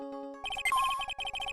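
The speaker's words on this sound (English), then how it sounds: "let's turn the detector on" A metal detector in the Ace Attorney video game switches on with a bright electronic jingle: a few soft tones, then a quick run of beeping chimes and a rising synth phrase, followed by steady pulsing blips.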